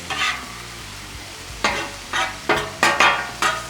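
Rice is stirred and fried in a hot pan, with soft sizzling throughout and a series of sharp scraping stirs, one early and then five in quick succession, close and clear.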